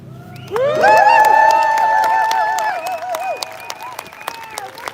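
A crowd at an outdoor clean water march in London breaks into cheering and whooping, with clapping underneath. The noise rises sharply, holds loud for about two seconds and then fades out.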